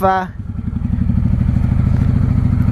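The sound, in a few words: Honda Shadow VLX 600 motorcycle engine running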